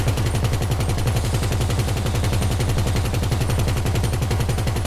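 Rapid automatic gunfire from a weapon in GTA Online rattles on without pause, a loud, dense stream of shots that fills the whole stretch.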